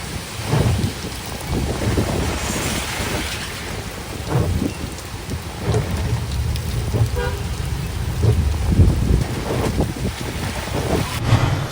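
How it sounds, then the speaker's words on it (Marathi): A steady, heavy downpour roars continuously over flooded streets in Kharghar, with low rumbling underneath throughout; no voices. "भरपूर पाऊस पडतोय"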